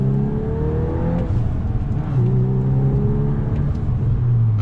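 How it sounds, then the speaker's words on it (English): A Volkswagen Golf R in R mode revs hard from inside the cabin, engine pitch climbing through gears with a brief dip at a shift, loud and sustained with no talking. "the Golf R also has an R mode. Man, it sounds significantly louder."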